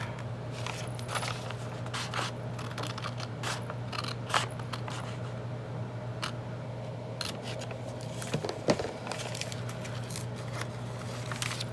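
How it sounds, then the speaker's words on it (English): Scissors cut through journal card paper in a series of short, crisp snips and scrapes, close and fairly quiet over a steady low hum. "I'm just gonna cut off right there."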